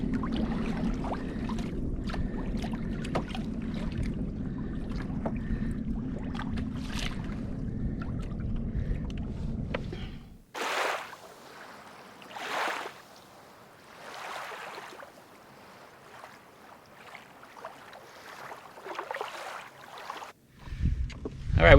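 A small boat on Lake Mead rides through big waves left by a passing large boat, engine droning steadily until it cuts out, then bursts of water slapping and wind gusts around the hull.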